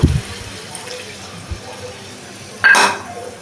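Water poured into a pan of fried potato and pointed gourd, a short hissing splash near the end after a soft clunk at the start, close and fairly loud.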